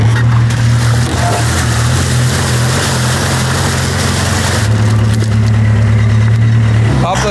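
A Merkur XR4Ti car engine idling with a possible rod knock, a loud, steady, close-up running drone that holds evenly throughout with a brief change near the end.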